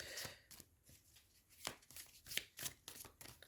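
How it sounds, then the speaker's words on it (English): Quick bursts of tarot cards being shuffled, riffling and slapping together in several rapid rounds, close and fairly quiet, with no talking. "Really making me shuffle for the Scorpios"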